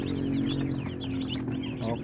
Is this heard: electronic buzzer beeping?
no